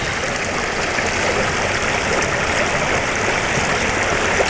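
Water running and splashing off a floating Vulcan Arms Weatherlock AR rifle bag, a continuous broadband rush like a stream, steady and close throughout.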